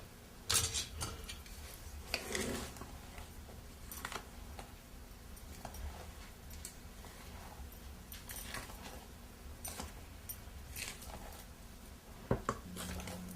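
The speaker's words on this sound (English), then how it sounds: "And we're going to add brownie mix. And we're going to stir as usual." Spoon clinks and scrapes against a bowl while brownie mix is stirred for a fat-replacing Nutrim recipe, with irregular soft taps and a few sharper knocks over a quiet kitchen background.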